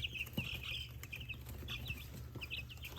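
Large, fast-growing young chickens cluck and chirp repeatedly in short bursts over a low, steady background hum, fairly close by, with no voices.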